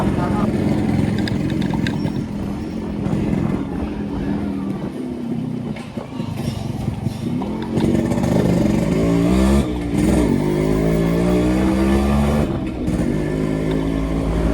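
A restored Yamaha RX 100 two-stroke 98cc motorcycle is ridden, its engine droning and revving up and down steadily throughout, with rising and falling pitch as it accelerates, loud and close.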